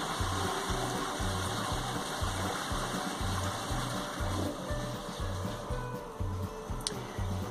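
Water runs steadily at a narrowboat toilet waste disposal point, a continuous gushing flush with a rhythmic pumping throb underneath, fairly faint and unbroken throughout.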